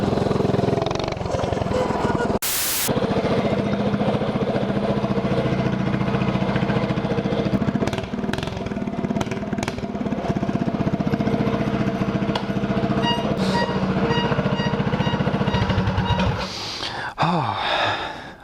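A mini-bike engine drones loud and close for the whole ride, holding a steady buzzing pitch with slight surges and a short harsh burst near the start, easing off at the end.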